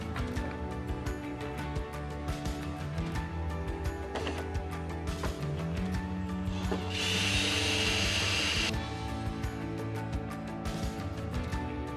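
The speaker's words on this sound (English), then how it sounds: "The best way to do it is with a hammer and a flathead screwdriver to drive up these pins" A hammer strikes a flathead screwdriver to drive the pins out of interior door hinges, giving a series of sharp metallic taps with a brief burst of scraping noise in the middle.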